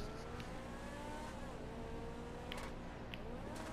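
X80 Proto supercar in Grand Theft Auto V accelerating, a steady mid-loud engine drone with rising and shifting tones through gear changes, a few brief clicks on top, no talk.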